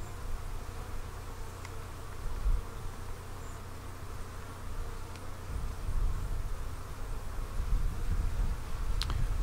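Honey bees clustered across the front of a hive buzzing at the entrance, a steady dense hum of many insects close by with a low rumbling undertone throughout, no talk.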